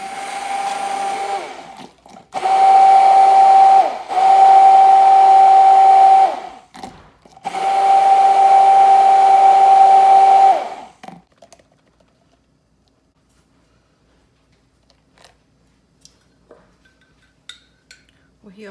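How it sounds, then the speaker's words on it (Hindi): A kitchen blender blends coconut-flavoured syrup for bubble tea in loud, steady whirring bursts: three long runs of the motor separated by brief pauses, then it stops and only faint clinks follow. "थोड़ा सा ये सिरप डाल के इसको ब्लेंड करूंगी बहुत अच्छे से।"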